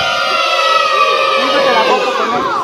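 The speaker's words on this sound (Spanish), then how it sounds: "A ver, que se escuche el grito de las niñas." A crowd of girls in a neighbourhood outdoor cinema audience lets out a loud, sustained, high-pitched collective scream, shrill and wavering for several seconds.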